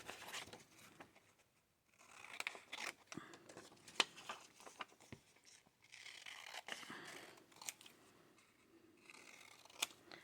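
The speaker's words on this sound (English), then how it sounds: "I'm just going to roughly cut them all out" Scissors roughly cut out small paper pieces at a craft desk, with a string of close, crisp snips and rustles coming in irregular bursts and brief pauses.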